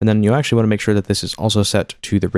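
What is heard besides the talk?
No everyday noise stands out behind the speech.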